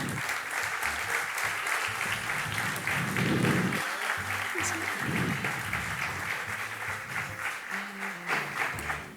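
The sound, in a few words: applause at award ceremony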